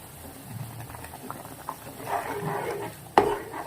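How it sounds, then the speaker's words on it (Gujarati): Semolina is stirred slowly into boiling water in a pot, giving quiet scraping and bubbling that grows a little toward the end and finishes with a sharp metallic clink. "એમાં ધીમે ધીમે આપણે રવો નાખીશું"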